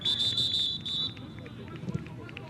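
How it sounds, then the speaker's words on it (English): A referee's whistle at a Sterling versus Audubon soccer match sounds in several quick, shrill blasts during the first second. Fainter field and crowd noise follows. "That was actually our whistle here."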